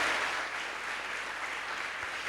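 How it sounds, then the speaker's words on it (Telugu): A church congregation claps at a consecration festival, a dense, steady wash of applause at moderate level that fills the whole moment with no voices on top. "గట్టిగా చప్పట్లు కొట్టండి దేవునికి"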